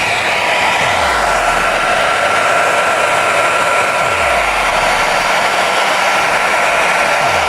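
A hair dryer running at full power over a sheet of notebook paper, a loud, steady, close airflow roar with a constant whine, continuous throughout with no talk.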